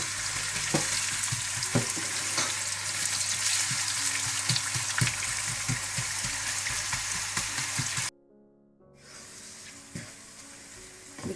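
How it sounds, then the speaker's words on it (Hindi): Onions frying in hot oil until golden brown for degi chicken korma: a steady, close sizzle with scattered stirring clicks. It drops to a quieter crackle for the last few seconds. "इसमें आप प्याज को फ्राई कर लें।"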